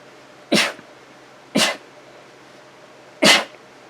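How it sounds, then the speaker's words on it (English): Three sharp sneezes, close and fairly loud, spaced about a second apart with quiet between them. "I'm going to sneeze."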